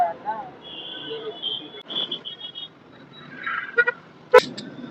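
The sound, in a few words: busy market street traffic with car horns in Srinagar, Uttarakhand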